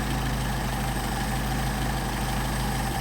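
A Mercedes 190SL engine fed by Solex 44PHH carburetors runs at a steady, rumbling idle, close and continuous throughout with no voices.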